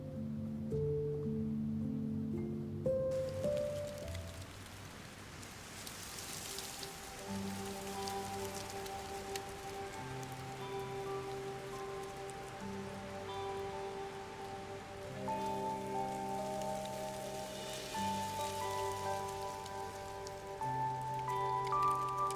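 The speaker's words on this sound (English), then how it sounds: "Keep out of the rain." Steady rain falls in the video game Love and Deepspace, a continuous soft hiss of drops spread over the whole stretch, with faint sustained musical tones underneath and no voices.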